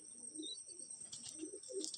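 Soft, low cooing of a small Madras pigeon kept in a loft, a few muffled coos spread across two seconds over a faint background hiss.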